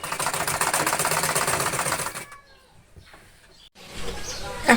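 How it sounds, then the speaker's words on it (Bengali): Domestic sewing machine stitching the gathered hem of a petticoat, a rapid, steady mechanical chatter for about two seconds that then stops, leaving quiet handling noises and a brief burst near the end. "ফাড়া রেখে সেলাই করব।"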